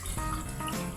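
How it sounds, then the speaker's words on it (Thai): Thin coconut milk poured into a hot pan of pork and oil for Thai panang curry, a steady liquid pour with a continuous watery splash lasting about a second. "เดี๋ยวแดงจะเติมหางกะทิลงไปนะคะใช้หางกะทิ300 ml นะคะ"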